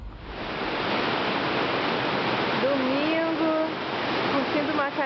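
Steady broadband rush of a waterfall in the forest near Rio de Janeiro, Brazil, constant and full throughout, with a brief tonal warble rising over the roar partway through.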